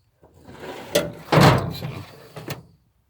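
Metal drawers of a vintage Snap-on toolbox sliding open and shut, a short clack followed by a loud rolling slide and a final sharp knock, close by with no talk.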